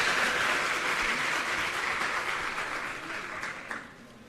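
An audience at a school inauguration in Dariyapur village, Bawana, Delhi, gives steady, dense applause to welcome a speaker. The clapping fills the room without talk and fades gradually toward the end.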